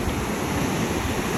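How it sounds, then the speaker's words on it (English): Ocean surf breaking on a beach in Vietnam, a loud, continuous roar of waves with some wind rumble, close and with no talking. "check out the waves and listen to them and look at the ocean"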